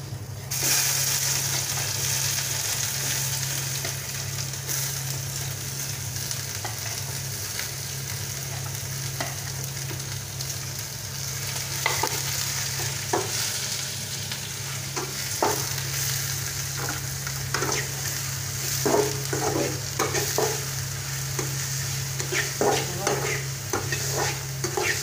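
Onions and bay leaf fry in hot oil in a pan with a steady close sizzle, while sharp scraping taps from a spoon stirring grow more frequent in the second half.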